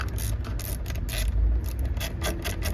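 Three Torx T20 bolts being removed from an International truck steering wheel with a ratcheting tool, heard as a close, continuous run of rapid mechanical clicking and rasping with a low steady hum underneath.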